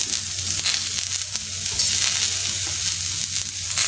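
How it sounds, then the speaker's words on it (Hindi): Grated coconut fries on a hot tawa with a continuous close sizzle and faint scraping stirs, steady from start to finish with no talking. "नारियल अभी अच्छी तरह से फ्राई हो चुका है"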